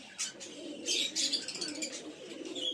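Pigeons coo in a loft, several birds near and far, in soft repeated coos with a few chirps and short bursts of louder calls over a low, steady background.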